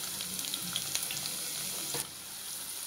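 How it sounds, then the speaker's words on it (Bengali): Chopped onion sizzles in hot oil in a pan while a fish curry with potato and pointed gourd is cooked. A steady, crackling fry with small pops settles slightly quieter near the end. "এখন দিয়ে দিব পেঁয়াজ কুচি"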